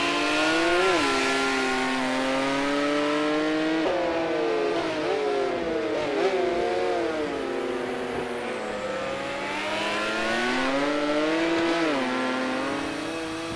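GT1 race car engine in the Project Cars 2 racing game, a loud, continuous in-car drone whose pitch climbs and drops through gear changes and lifts for corners, heard alone for the whole stretch.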